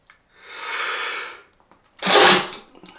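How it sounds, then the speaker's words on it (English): A single close, loud sneeze bursts out after a long, drawn-in breath, with a brief pause between the inhale and the sharp explosive release. "Sneeze."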